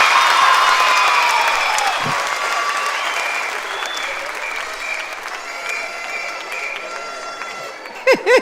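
Loud audience applause and cheering for a small child's dance performance, dense and sustained before tapering, with crowd chatter mixed in and a couple of sharp knocks near the end.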